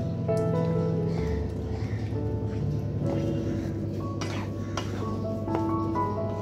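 Semolina halwa being stirred into milk in a pot: continuous wet scraping and clinking of a spoon against the pan, busy and close, with scattered tapping sounds and no talking.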